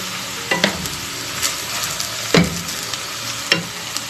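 Pad see ew noodles stir-fried with soy sauce in a hot pan, a steady sizzle broken by several sharp scraping stirs, close and loud with no talking.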